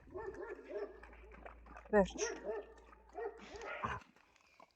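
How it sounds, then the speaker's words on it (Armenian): Stray dogs give short barks, yips and whimpers at close range, mixed with a person talking and calling to them. "այն շունը հաչում է թող հաչի"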